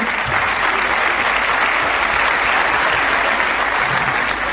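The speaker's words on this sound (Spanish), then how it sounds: "Este aplauso es para ustedes" A circus audience applauds loudly and continuously, a dense, even roar of clapping from a large crowd that fills the whole stretch without a break.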